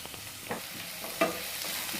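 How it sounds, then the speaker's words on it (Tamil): Onion sizzling and crackling in hot oil, a soft steady fry with a light stir or clink partway through. "எண்ணெய் சூடாயிடுச்சு. இப்போ இதில் நறுக்கி வச்சிருக்க ஒரு பெரிய வெங்காயத்தை இதில் சேர்த்துக்குவோம்"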